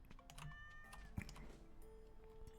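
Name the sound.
cat meowing in the video game Stardew Valley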